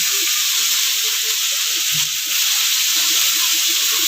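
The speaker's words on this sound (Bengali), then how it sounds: "খুব কড়া করে ভাজবেন না, কিন্তু হালকাভাবে ভেজেই তুলে নেব।" Prawns frying lightly in hot oil, giving a steady, close, even sizzle with faint low bubbling and no speech.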